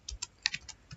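Code is typed on a computer keyboard, with about eight quick, light key clicks close by in an uneven burst.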